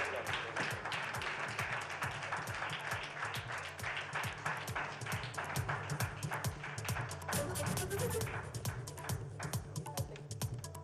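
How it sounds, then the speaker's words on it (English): Auditorium audience at a summit gives continuous, steady applause, many hands clapping together in a dense wash that lasts throughout without speech. "set to the loud applause of every single person in this auditorium"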